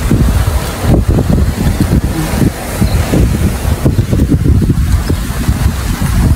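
Wind blows outdoors on a hot day near a clinic, buffeting the microphone with loud, gusty rumbles that swell and fade in irregular bursts throughout.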